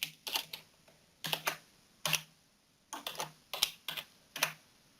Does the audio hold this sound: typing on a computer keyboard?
yes